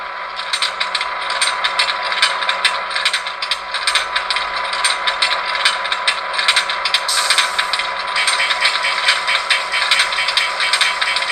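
A rapid, continuous ratcheting click from a model locomotive handbrake, a LokSound v5 DCC sound effect in a ScaleTrains Southern Pacific SD7R, runs for several seconds, crisp and close.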